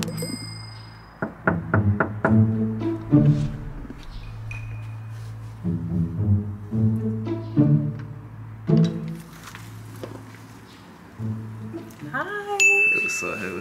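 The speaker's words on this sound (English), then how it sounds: "I'm finna knock on the door right now." A quick series of sharp knocks on a door, rapped in a tight burst, with more scattered raps and music playing underneath throughout.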